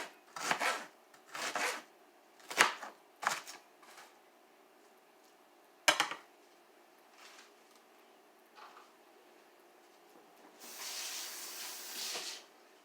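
Onions being minced with a Dollar Tree dough slicer, a series of short chopping and scraping strokes in uneven bursts, close up, followed by a longer rasping scrape near the end.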